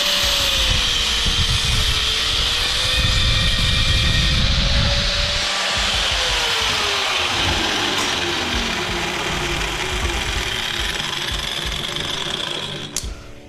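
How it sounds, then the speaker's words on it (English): A handheld angle grinder cuts steadily through a steel pin set in cast aluminum, a continuous loud whining grind that holds for about twelve seconds and then stops with a brief final clatter. "We use the angle grinder to get that out, and you notice it was sparking."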